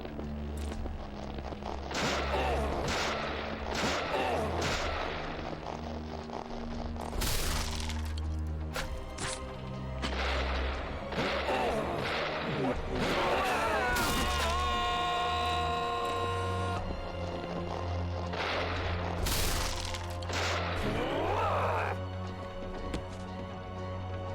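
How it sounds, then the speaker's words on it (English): Gunshots in the video game Deadly Premonition, repeated sharp bursts at irregular intervals over a constant droning game background, loud and dense across the whole stretch. "Just keep shooting him like this."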